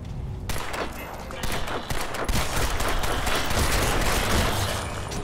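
Heavy, continuous automatic gunfire in Crysis 2, loud and close, with rapid overlapping shots and bursts filling the whole stretch.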